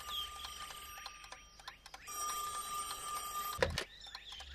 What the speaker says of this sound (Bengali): যাই ফোনটা ধরি।